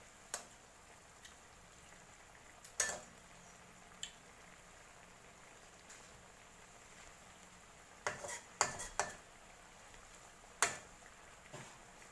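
Scattered clinks and scrapes of a utensil against a pan while bean sprouts and tofu are stir-fried, faint and irregular, with quiet gaps between clusters of taps.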